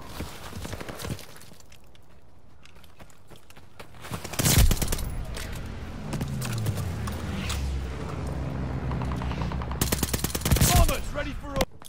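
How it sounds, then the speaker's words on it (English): A friendly mortar barrage in a World War II shooter game, heavy booming impacts and rumbling explosions landing in clusters among scattered gunfire, loud and close, with a voice calling out between blasts. "Friendly mortar fire coming."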